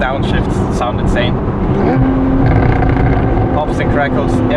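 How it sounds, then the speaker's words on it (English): Loud, close exhaust roar from a Porsche Boxster GTS 981 pulling hard under acceleration on a Black Forest drive, a steady climbing engine note with a voice talking over it. "Pops and crackles everywhere, and then acceleration."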